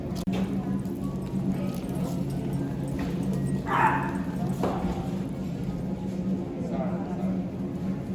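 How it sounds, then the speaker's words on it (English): A dog barks inside a store, a couple of short sharp yaps standing out against steady indoor hum and background chatter. "You know you can't have that dog in the store. It's illegal. And now it's barking."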